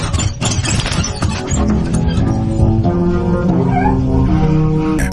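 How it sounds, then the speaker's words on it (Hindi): A cat meowing close by, a loud, drawn-out, wavering cry rising and falling in pitch, heard up near the ear and clear over faint background sound. "लेकिन अचानक मेरे कान के पास बिल्ली की म्याऊं सुनाई दी।"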